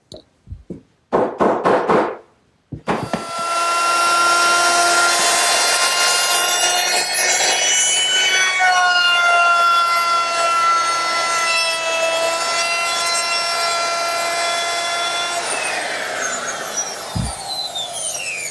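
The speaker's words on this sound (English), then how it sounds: "to round that over I used a 1/2-inch radius bit" A router with a 1/2-inch radius round-over bit shapes the top edges of a wooden washstand backsplash: a few clicks, then a loud sustained high whine as the motor spins up, cutting steadily, then winding down.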